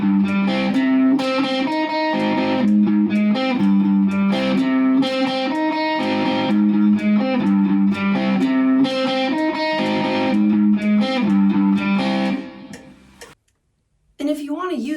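An electric guitar plays a riff at a steady 100 BPM with a metronome, the repeating pattern running continuously and loud before cutting out briefly near the end, then resuming.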